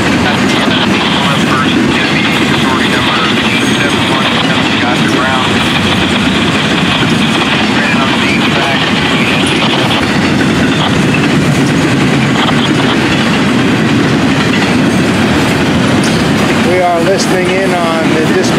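A long Florida East Coast double-stack container freight train rolls past close by, a loud, steady rumble with clickety-clack wheels and engine drone sustained throughout, with squealing wheel tones near the end.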